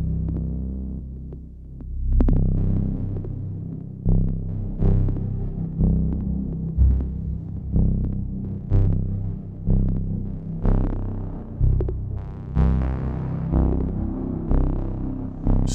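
A Euterpe Vertice filter bank synth runs with its envelope gate looping, giving a loud, throbbing tone that swells and pulses in a steady repeating rhythm of roughly one beat per second, with no talking.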